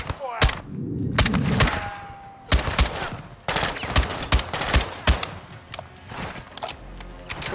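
Gunfire in the video game Call of Duty Modern Warfare 2 (2022), loud close bursts and single sharp shots in irregular clusters with metallic ringing and short gaps between volleys.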